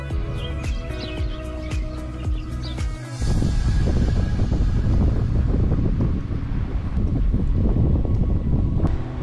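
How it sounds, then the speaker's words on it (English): Water laps at a cold lakeshore with a steady washing rush, heavy wind buffeting the microphone and briefly dropping out before returning louder and more constant. "It's just nice to come sit here and listen to the water"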